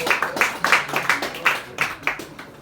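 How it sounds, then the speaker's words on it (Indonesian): A small audience at a panel discussion claps for a guest, a short, uneven patter of hand claps, close and fairly loud. "Tepuk tangan untuk beliau Gede."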